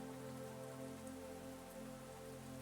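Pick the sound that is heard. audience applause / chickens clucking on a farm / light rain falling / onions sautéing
light rain falling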